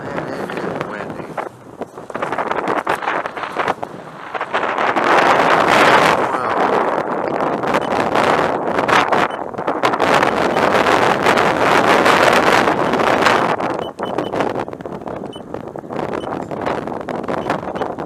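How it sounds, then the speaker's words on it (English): Strong gusty wind at an RC model airfield runway buffets the microphone with a loud, continuous roar that swells and dips across the whole stretch, with no clear voices. "And it is windy."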